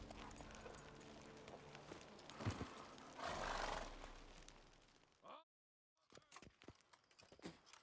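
Roach, Geralt's horse in The Witcher 3: Blood and Wine, clops along and pulls up with a whinny and snort, hooves and tack loud and close, ending in a brief silence before scattered footfalls.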